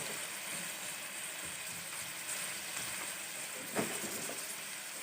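Chicken frying lightly in a pan with a tablespoon of soy sauce for a grilled chicken cheese panini, giving a constant dense sizzle with one brief louder spatter near the end, no talking.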